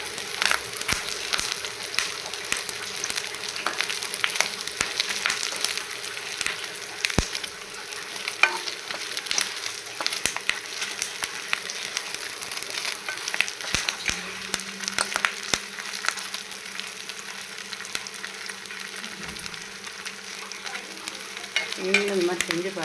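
Paneer cubes fry on a hot tawa with curry leaves, a continuous close sizzle broken by scraping stirs and small clacks of the spatula against the pan, with no speech.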